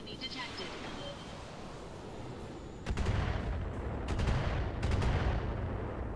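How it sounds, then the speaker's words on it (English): Gunfire in a World War II tank video game aimed at a Hetzer tank destroyer: booming shots, the loudest starting about halfway through, over a rumbling battlefield din. "I'm going to fire on this Hetzer"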